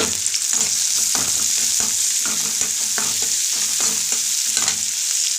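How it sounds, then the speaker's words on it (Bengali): Chopped garlic, onion and chili fry in hot oil, a loud, steady sizzle with repeated scraping and clinking of a spatula stirring in the pan, close up and without talk. "এবার লঙ্কা কুচি দিয়ে ভালো করে আগে আমি একটু এগুলো ভাজা ভাজা করে নিই"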